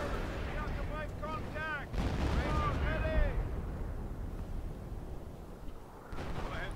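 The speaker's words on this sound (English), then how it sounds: "Huge howitzer shot." Howitzer artillery fire in a World War II strategy game, a heavy booming blast with rumble and whooshing under a busy battle soundscape of gunfire and unit chatter.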